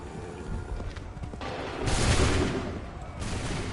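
A volley of musket gunfire in Assassin's Creed III, a rushing burst of many shots swelling loud in the middle of the clip, with rough battle noise around it and smaller crackles after.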